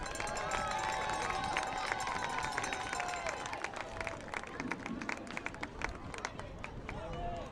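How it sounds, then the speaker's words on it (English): A crowd at a high school football game, Richmond versus Lafayette Jeff, applauds a youth football team with sustained, dense clapping and cheering across a large open space, while an announcer's voice carries over the noise. "Another big round of applause for the future Red Devils."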